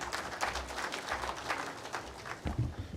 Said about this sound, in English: Please welcome with a clap.